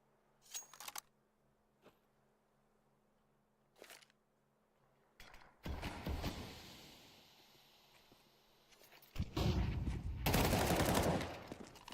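Bursts of rifle fire in a Counter-Strike esports match, starting with short scattered shots and building into loud, dense sustained gunfire near the end.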